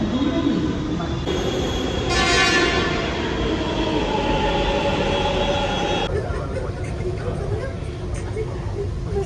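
A metro train pulls into a station platform in Bengaluru with a loud, steady rumble of wheels and carriages and some high squeal. Indistinct voices and announcement-like speech blend into the station noise.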